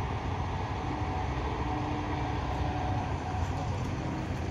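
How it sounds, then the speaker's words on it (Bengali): A train passes near Belda, heard from a stopped bus as a steady, loud rumble of rolling wheels and carriages that stays constant throughout. "এখান থেকে ট্রেন যাচ্ছে"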